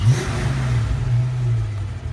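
A Ford Mustang engine rumbles and revs steadily up close, a low throaty growl filling the whole clip with no voices.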